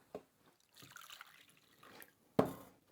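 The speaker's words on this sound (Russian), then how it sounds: "Мы будем добавлять воду." Water poured from a jug into sifted flour while making bread dough, with a few soft drips and trickles, then a sharper splash near the end, faint and close in a quiet room.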